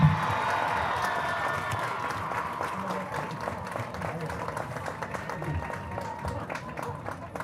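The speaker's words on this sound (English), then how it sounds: "Please join me in giving another round of applause" Steady clapping from a crowd at a Ludington vs Whitehall event honoring 2025 royalty, moderately distant, continuing evenly throughout with a dense patter of hands.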